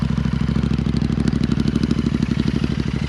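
A Royal Enfield Interceptor 650 twin fitted with S&S slip-on exhausts idles close by, a steady, loud, throbbing rumble with a fast even pulse and a slight rise in revs, no voices.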